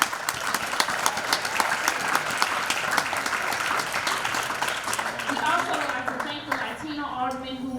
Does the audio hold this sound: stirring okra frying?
no